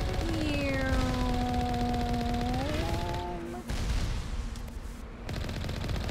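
Sustained video game gunfire from Mass Effect Legendary Edition rattles on steadily over a loud, dense battle soundscape with a rising whine, briefly thinning out before the shooting resumes.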